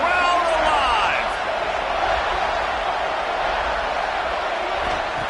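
A football video game crowd roaring on a third-down red zone play, a loud, steady stadium din with rising whoops at the start, heard under a commentator's voice.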